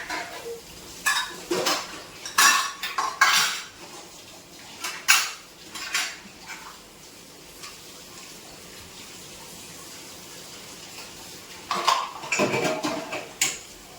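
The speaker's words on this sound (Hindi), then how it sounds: "तो अभी मैं किचन में आ गई हूँ बर्तन साफ़ करने के लिए।" Dishes, pots and cutlery being washed under a running tap in a home kitchen, with repeated clattering and clinking bursts over a steady stream of water, fairly close and without talk.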